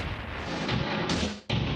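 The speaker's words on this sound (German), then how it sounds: "Beim Abschuss zieht das Projektil im Rohr einen Feuerschweif hinter sich her." A German long-range England cannon fires a projectile, a heavy booming blast with rumbling noise and a sharp second crack near the end, loud and close.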